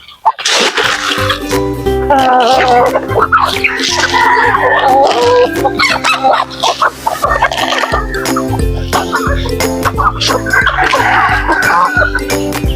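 Texas and native chickens being fed, a dense mix of clucks, gobble-like calls and squawks from many birds close by, busy and continuous throughout with some faint speech-like sounds.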